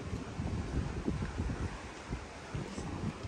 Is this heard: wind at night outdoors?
yes